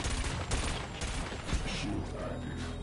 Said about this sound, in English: Let's try a bit of cannon here.